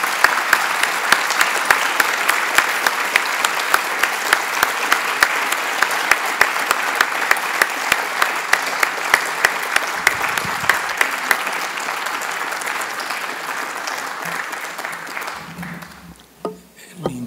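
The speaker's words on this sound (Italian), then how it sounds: "L'intensità dell'applauso dice della verità della partecipazione di tutto il pubblico a questa splendida lezione." Sustained, dense applause from a lecture audience fills the hall after a talk on faith and reason, steady and full for about fifteen seconds before thinning out and fading near the end.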